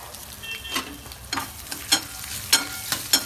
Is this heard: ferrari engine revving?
no